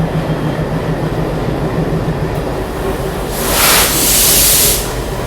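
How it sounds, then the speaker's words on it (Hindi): Pune–Nagpur Humsafar Express rolling into a platform, a loud continuous rumble of wheels and carriages passing close by, with a burst of hissing air partway through. "ये आ गई अपनी पुणे नागपुर हमसफ़र एक्सप्रेस"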